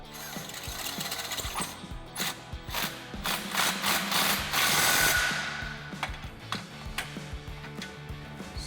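An impact gun with a 13mm socket snugs driveshaft bolts on a 2011–2014 Mustang GT, giving a close, rapid mechanical rattling and hammering with short bursts and pauses.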